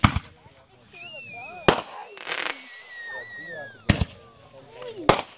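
Sharp firework bangs and crackles go off at intervals alongside whistling rockets that rise and fall, at a Fourth of July backyard gathering where several people are talking.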